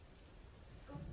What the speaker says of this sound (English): It's beginning to rain.